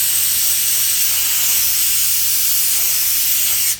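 Compressed air blowing from an air hose in a dental lab, a continuous close broadband hiss that holds steady for nearly four seconds, then cuts off.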